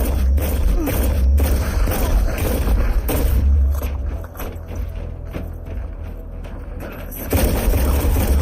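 Grenades explode in Warhammer 40,000: Inquisitor - Martyr combat, with heavy low booms and thuds amid loud, busy battle noise that dips briefly in the middle.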